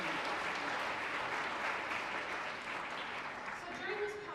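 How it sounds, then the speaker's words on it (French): A conference audience applauds in a broad, continuous wash of clapping heard at a modest distance, steady for several seconds, with a voice faintly audible beneath it. "Donc, ça mérite de vous applaudir."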